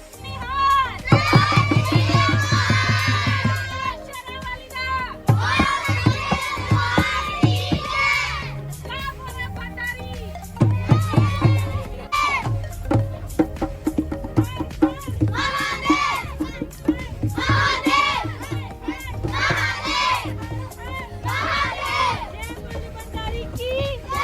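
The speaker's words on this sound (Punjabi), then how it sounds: "ਇਸ ਜਰਨੀ ਦੀ ਸ਼ੁਰੂਆਤ ਜਿਹੜੀ ਆ ਉਹ ਜੈਕਾਰਿਆਂ ਨਾਲ ਕੀਤੀ ਆ" Children on a bus at the start of a school trip shout religious jaikara chants together, loud rhythmic group shouts that come in repeated bursts, with cheering and crowd noise in between.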